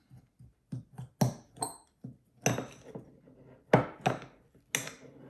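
Brown sugar and cinnamon being stirred together in a bowl for a whole wheat cinnamon roll filling, irregular clinks and knocks of a utensil against the bowl, close and sparse, with quiet gaps between strokes.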